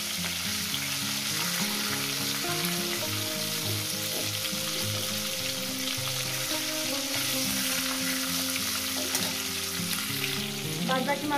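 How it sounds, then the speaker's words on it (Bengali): Bata fish frying in hot oil for a fish curry with potatoes, a steady loud sizzle running unbroken throughout with faint stirring and a clatter near the end, no voices. "এগুলো ভেজে দিয়ে দিচ্ছি। এই মাছগুলো আমার ভাজা হয়ে গেছে"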